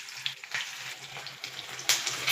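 Hot oil tempering with red chilies, curry leaves and chili powder for dhaba-style toor dal fry, a close, crackling sizzle with sharp pops and spits bursting over a steady frying hiss.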